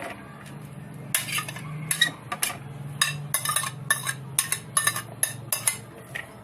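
Chopped vegetables tipped and scraped into a dish for a diet recipe, giving a run of close metallic clinks and scrapes from a utensil against cookware, irregular bursts over a low steady hum, with no talking.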